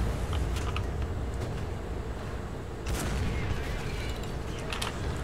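Tank cannon fire in War Thunder, a Soviet desert battle with a Cobra King Sherman nearby: a loud, heavy low rumble of battle noise fills the scene, with a sharp blast near the middle over continuous mechanical engine drone.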